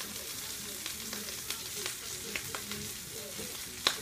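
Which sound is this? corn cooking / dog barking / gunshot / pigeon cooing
corn cooking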